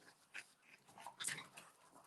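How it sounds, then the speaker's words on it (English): A drowsy dog lets out soft whimpers mixed with light panting, quiet and fairly close, with no voices. "My dog sleepy as hell."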